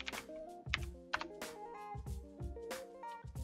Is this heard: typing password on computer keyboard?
yes